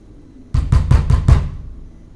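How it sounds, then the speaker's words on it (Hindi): Five quick, heavy knocks on a wooden door, loud and close, followed by a short fading ring-out, with no voices, used as a horror-story sound effect. "दरवाजे पर कोई खटखटाने लगा"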